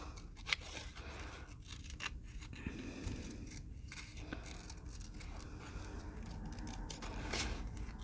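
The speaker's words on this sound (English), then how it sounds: "Now I am just fussy cutting around this flower, which means I'm just cutting it right up to the edge" Quiet, close snipping of scissors fussy cutting around the edge of a paper flower, a run of soft irregular cuts and paper rustles at low volume.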